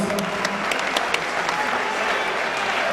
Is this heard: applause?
yes